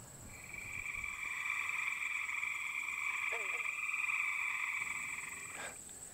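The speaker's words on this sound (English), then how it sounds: "I didn't expect to see leopard frogs today, especially so many of them." Chorus of many southern leopard frogs calling together in a wetland, with steady overlapping croaking and trilling bands that persist throughout at moderate level, fading near the end, no talking.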